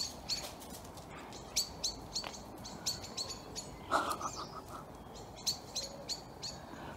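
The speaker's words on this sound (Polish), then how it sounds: "A jak rano ptaki pięknie śpiewają" Morning birds in spring near bungalows, several singing birds chirping and calling in repeated short phrases over faint background noise, fairly close and clear with no talk.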